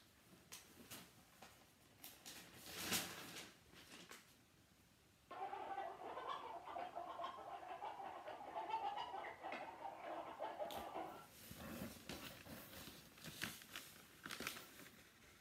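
A chicken clucks in a run of short, bright calls, quiet and fairly close, with a stretch of rustling in the middle and more clucks afterward.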